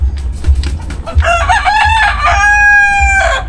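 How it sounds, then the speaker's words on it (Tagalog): A rooster crows loudly and close by in a public cemetery, a long drawn-out cock-a-doodle-doo with harmonic tones, over a low rumbling background. "Oh, may manok pa dito."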